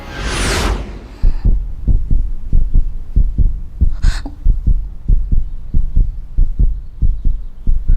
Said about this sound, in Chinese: 你现在的心跳已经超过120了